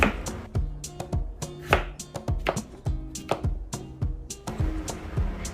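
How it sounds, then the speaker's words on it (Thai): A knife slices thinly through a firm potato on a cutting board in quick, irregular strokes, each with a crisp knock, close and clear, no talking. "จะหั่นให้เป็นแว่นบางๆ โดยไม่ต้องขาดออกจากกันนะคะ"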